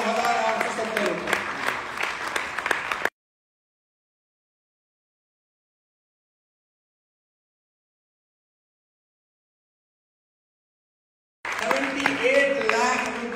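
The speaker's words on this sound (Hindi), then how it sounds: "तालियां बजाइए जोरदार" Loud audience clapping and crowd noise at an anniversary gathering, with voices over it, breaks off into a long silence and then resumes near the end.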